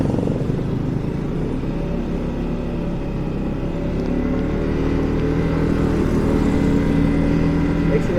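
A Yamaha MT-15 motorcycle pulls away in first gear after a U-turn, its engine a steady close drone that rises gradually with wind rush, and a rider speaks intermittently over it.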